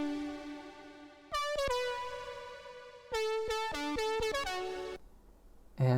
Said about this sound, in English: but I added some OTT and some saturation to it.